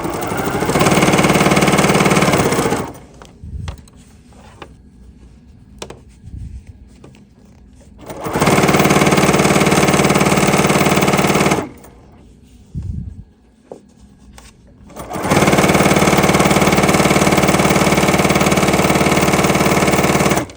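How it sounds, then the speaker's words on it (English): A BERNINA sewing machine using a double cording foot runs a straight stitch down cording in three loud, steady bursts of rapid mechanical whirring, with quieter pauses between them filled by faint handling noises. "now we're going to simply stitch right down the middle here like this"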